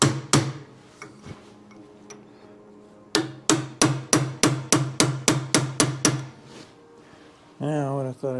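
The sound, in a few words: chisel hammered on 1914 Chevrolet wheel bearing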